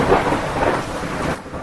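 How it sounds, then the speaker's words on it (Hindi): Thunder rumbles through steady heavy rain during a monsoon downpour, a loud continuous wash of falling water with a deep roll that eases briefly near the end. "3 दिन बीत गए लेकिन अभी तक बारिश बंद नहीं हुई।"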